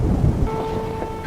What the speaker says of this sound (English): you hear the storm brewing